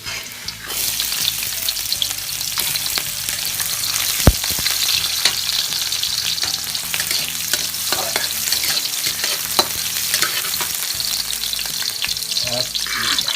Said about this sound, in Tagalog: Lagyan na natin yung bawang.